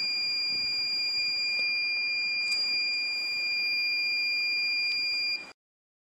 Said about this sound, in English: When the hot soldering iron is brought closer to the temperature sensor, the buzzer will buzz.